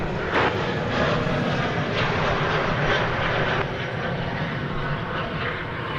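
An American Airlines Boeing 787-8 Dreamliner moving at DFW Airport makes a steady, fairly loud engine rumble and rush that eases slightly partway through, with no talk.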